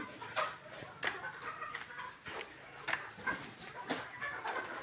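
Chickens cluck and squawk in short, scattered bursts inside a farm coop, fairly quiet and close by, with some rustling between the calls.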